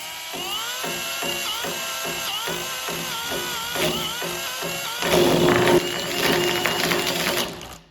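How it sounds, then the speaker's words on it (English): Grinding on a wheel loader quick coupler bushing: a series of short, loud, whining bursts that dip in pitch as the tool bites, then a heavier continuous grind near the end before it cuts off. "Go back to grinding."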